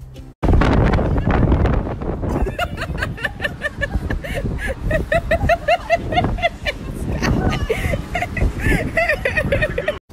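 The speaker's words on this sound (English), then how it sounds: "it was literally so windy up on the top decks." Strong wind roars across the top deck of a cruise ship, a loud buffeting rush at first that continues under a person talking and laughing for the rest of the stretch.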